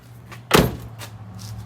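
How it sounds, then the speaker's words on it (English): A Toyota Prius car door shuts with a single solid thud over a low idle hum, followed by faint quiet rustling. "Now we're gonna close the car,"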